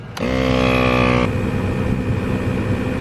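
An ARB onboard air compressor on a Toyota Tacoma starts with a steady mechanical hum and harmonic whine, runs about a second, then drops to a rougher idling rumble with a faint high tone.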